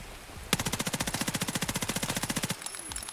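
Automatic gunfire in Escape from Tarkov rattles off in one sustained burst of roughly thirty rapid, evenly spaced shots lasting about two seconds, loud and close, followed by a faint tail.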